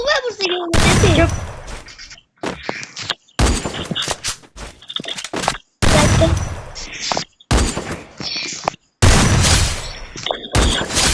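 Video game gunfire with a headshot: repeated loud bursts of shots in clusters separated by short pauses.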